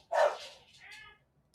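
A dog barks once loudly and close, the bark trailing into a softer whining tail, then quiet.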